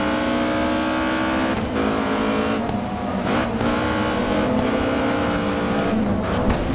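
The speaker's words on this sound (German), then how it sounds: "Hier fährt doch nur BMW und Mercedes auf dem Kurs." BMW and Mercedes race cars roar around a track in the racing game GRID 2, engines revving loudly and shifting pitch as they pass, a continuous close drone with no talk.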